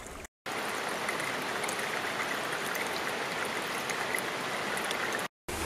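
A small bubbler oxygenating the water of a commercial aquaponics system gives a steady, close, even rush of bubbling, flowing water, broken by two brief silent cuts.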